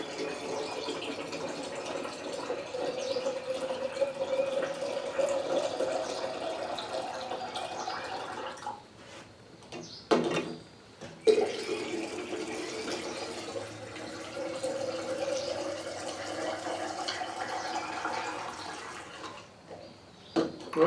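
Piña colada moonshine pours into jars as a steady, close trickling stream with a short pause partway through, then resumes topping off the jar without talk.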